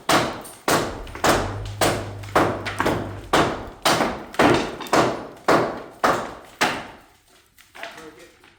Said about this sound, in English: We're gonna let TJ have his first experience with second floor joist removal